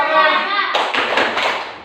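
Children clap their hands along to a classroom song, several rhythmic claps following a sung line, close and fairly loud.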